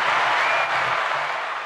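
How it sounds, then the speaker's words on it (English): Brief steady audience applause greets a rap artist being introduced on a podcast, a dense even wash of clapping with no talk over it. "We got the applause."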